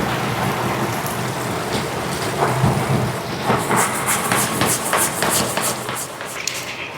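Heavy rain pours down steadily at a home during a storm, a dense continuous hiss with scattered louder patters and drips; no one speaks.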